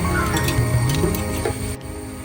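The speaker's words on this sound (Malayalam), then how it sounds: "അപ്പോൾ നമുക്കിത് അല്പം ഉപ്പുവെള്ളം ഇടാം" Salt water poured into hot oil where Onam upperi chips are frying gives a continuous hiss and bubbling sizzle, loud and close, easing off slightly near the end.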